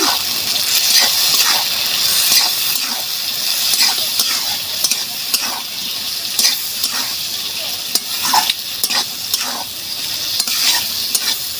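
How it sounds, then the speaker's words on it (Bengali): Spice masala for tengra fish sizzles steadily in a pan while a spatula scrapes and stirs in repeated strokes, loud and close throughout. "এবার আমি মশলাটা কষাবো"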